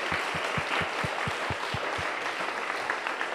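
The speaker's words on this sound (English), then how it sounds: "let's do another round of applause for our panel" Steady applause from a town hall audience for a panel, a dense wash of clapping with a few distinct claps standing out early, then fading slightly.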